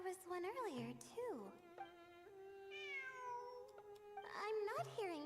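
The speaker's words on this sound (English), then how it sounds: "It really is a cat." In the video game Genshin Impact, a cat meows several times with drawn-out, rising and falling cries, close and clear, separated by sustained tonal game music.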